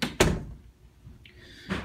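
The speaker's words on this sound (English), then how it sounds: "Let the bathroom door open again." A bathroom door in a house opens: a sharp latch-and-bump at the start, a faint creaking squeak of the hinge partway through, then another thud as the door moves, close and alone with no talking.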